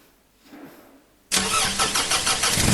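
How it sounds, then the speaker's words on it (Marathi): A car engine cranks and catches abruptly after a quiet stretch, then runs at a loud, steady idle close to the microphone, with no talking. "आता गाडी कशी चालू होते ती बघा"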